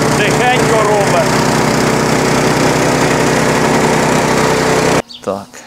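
A GT branch chipper's engine running steadily at a loud, close idle with a buzzing mechanical drone, then cutting off abruptly near the end, followed by a brief voice.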